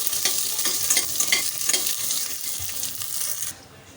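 Green chillies, slit down the middle, are stirred into a sizzling pan for a semolina and moong dal tiffin, with a close, busy frying hiss and quick scraping stirs before the sound drops away near the end.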